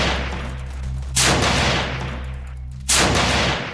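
AWS gun firing in the Roblox game The Arrival, two loud, heavy shots about 1.7 seconds apart, each with a sharp crack and a lingering tail, over a constant low background hum.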